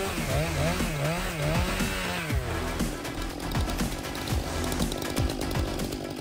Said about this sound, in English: the Steel Mrs. 661 chainsaw with 28-inch bar conquers the forestry sector